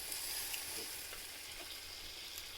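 Crab fry sizzling hard in a pan, a bright steady crackle of frying with faint stirring, close and continuous with no voices.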